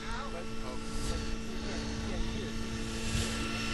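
An F3C radio-controlled model helicopter flies nearby with a steady high-pitched rotor and engine whine at a competition, constant and even, with a voice narrating over it.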